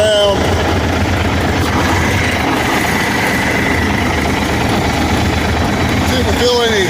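A 2005 International truck idles with a loud, steady engine rumble close by, an unbroken drone that continues throughout, with a voice heard over it.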